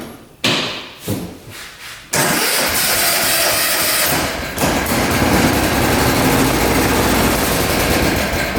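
A 1960s hydraulic 6x6 tank, left sitting for years, cranks with a few rough chugging bursts before its engine catches and roars loudly close by for several seconds with a steady rumbling run, no talking.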